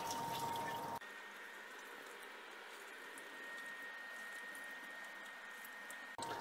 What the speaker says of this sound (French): Après les 30 secondes, rincez-les sous l'eau froide, égouttez, puis mettez dans un bol.